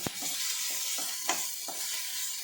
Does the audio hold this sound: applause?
no